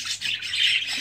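English albino budgerigar chicks give a short burst of harsh squawks, close and fairly soft, with no talking.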